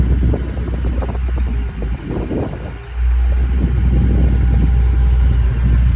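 A small auctioned vehicle with 5,482 miles on the odometer, its engine idling low and steady outdoors as it is driven forward and then backward, with wind noise and a brief dip partway through.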